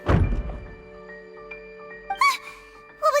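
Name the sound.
decoration accidentally knocked over, from video game Genshin Impact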